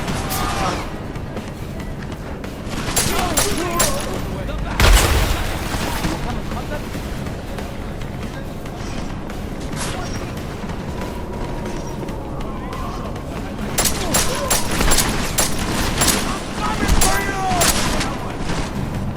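Gunfire in Deus Ex: Mankind Divided on PS4: scattered shots and bursts crackle on and off over a busy combat soundscape, with a few louder booms and voices shouting underneath.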